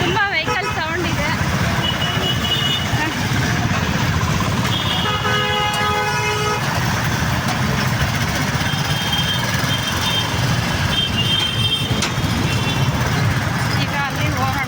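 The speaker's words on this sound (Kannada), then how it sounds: "ಇಲ್ಲೆಲ್ಲ ಗಾಡಿಗಳೆಲ್ಲ ಹೋಗ್ತಾ ಇದ್ದಾವೆ, ತುಂಬ ವೆಹಿಕಲ್ ಸೌಂಡ್ ಇದೆ" Busy street traffic with vehicles streaming past nearby, a steady dense engine roar throughout and several car horns honking, including a sustained multi-tone horn blast mid-way, under a continuous background of voices.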